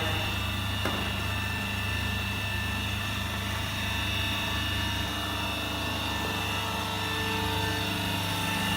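Hydraulic pump of a sheet-metal shearing machine running steadily after start-up, a loud continuous mechanical drone with a low hum and a faint tonal whine, unchanging throughout.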